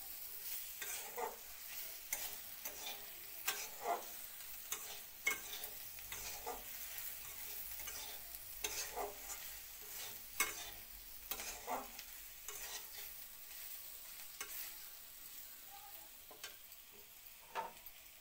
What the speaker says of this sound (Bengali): মশলার সঙ্গে একসঙ্গে ভালো করে কষিয়ে নিব।